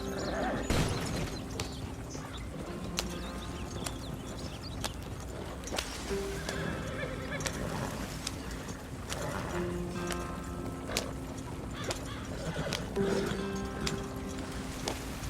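Horse hooves clip-clop and a horse whinnies in the video game Red Dead Redemption 2, with steady trotting footfalls heard fairly close under faint game ambience.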